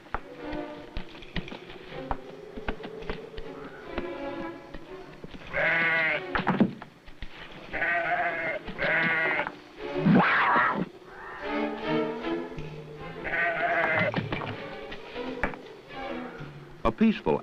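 A mountain goat bleats repeatedly in the wild, a series of loud, wavering calls in irregular bursts, with a narrator speaking over and between them and faint insect buzzing.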